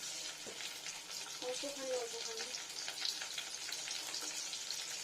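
Onion with chopped ginger and garlic frying in a pan for a jackfruit curry, a steady close sizzle with light stirring scrapes, and a brief word spoken softly over it.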